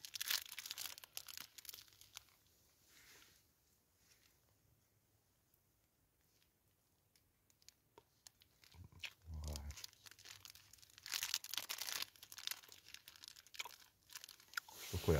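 Crinkling wrapper and crunchy bites of a chocolate biscuit, eaten alone while wild camping in a rainy Scottish forest; bursts of rustle and crunch at the start, a quieter stretch, then louder crinkling and chewing near the end.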